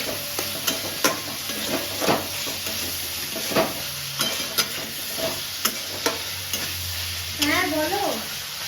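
Two medium onions fry in hot oil for a Bengali prawn poppy-seed dish, a steady sizzle broken by regular scraping stirs of a utensil in the pan and a short voice near the end.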